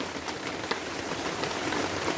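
Heavy rain pours steadily during a thunderstorm with frequent lightning, a dense close hiss of drops on surfaces, with scattered louder splats throughout.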